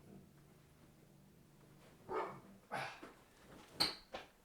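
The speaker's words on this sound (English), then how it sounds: "The dog's barking." A dog barks a few times indoors at the door, sharp separate yips and woofs spaced out over a quiet background, moderately close.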